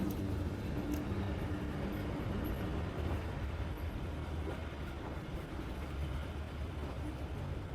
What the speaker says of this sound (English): Oh, there's a train at above